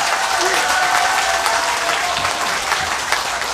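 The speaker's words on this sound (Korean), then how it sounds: "여러분 박수 부탁드립니다." Loud, sustained applause from a crowd at a political rally, a dense and even roar of clapping with a faint hum and some crowd noise underneath.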